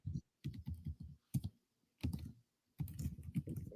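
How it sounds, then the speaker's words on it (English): Fingers tap on a computer keyboard in quick bursts of close, clicky keystrokes, separated by short pauses. "Wait, I'm typing."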